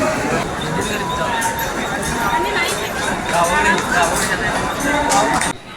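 Dense crowd bustle on a busy Sunday street outside a mall, with continuous overlapping chatter, footsteps and general hubbub at close range, steady and loud until it drops off at the very end.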